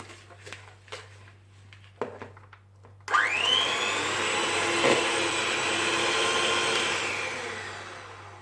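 An electric hand mixer whirs into a bowl of ghee, sugar and coconut for coconut cookie dough, starting with a sharp rising whine after a few soft clatters, then holding a steady close buzz that eases off near the end.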